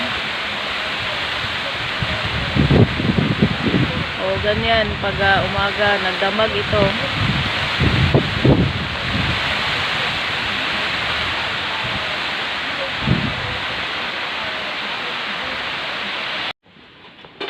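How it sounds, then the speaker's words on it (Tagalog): Heavy rain pours in a loud, dense roar throughout, with a person talking briefly over it near the start. "Ulan sa bukid na malakas."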